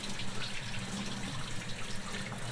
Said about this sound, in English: But just running the water across it, getting in the Velcro strips